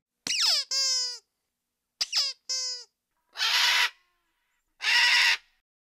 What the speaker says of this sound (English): I also threw in this bird screech and a baby doll squeak just to spice things up a bit.